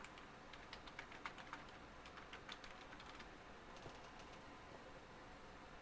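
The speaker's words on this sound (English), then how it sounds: "Let me start typing it in if you guys want to change it." Soft typing on a computer keyboard, a quick irregular patter of light key clicks at close range, fairly faint, with no talking over it.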